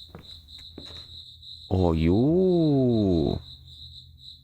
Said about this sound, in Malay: Cengkerik.